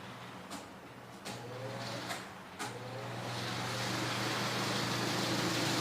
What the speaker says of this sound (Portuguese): eu vou aumentar aqui a velocidade do ventilador.